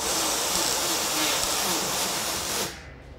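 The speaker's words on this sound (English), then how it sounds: "we're gonna prep the inside and spray a thick undercoating" A loud, steady spray hiss of thick undercoating being sprayed inside a Ford F100 truck fender runs continuously for a few seconds, then cuts off abruptly near the end.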